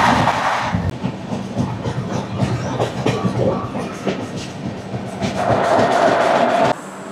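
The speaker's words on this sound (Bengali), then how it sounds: "আমাদের ট্রেন এই মুহূর্তে এসে পৌঁছালো তার যাত্রাপথে 6ষ্ঠ স্টেশন ধানবাদ রাজ্যের কোডারমা জংশন স্টেশনে" Poorva Express train rolling on rails into Koderma Junction, heard from inside a carriage as a loud rumbling, rhythmic clatter of wheels with metallic screeching swells near the start and end, no one speaking.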